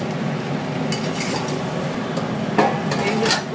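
Chicken and potatoes stirred in a pan for a Bengali bhuna chicken, a few soft scraping clinks of a spoon against metal over a steady low background, close and moderately quiet.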